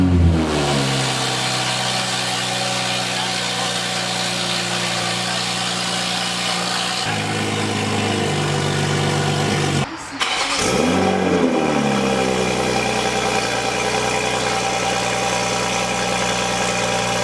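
A Toyota Supra with a new downpipe and an ECU tune, rumbling loud and close with droning exhaust tones that step as the revs change, then a brief dip before the engine swells again.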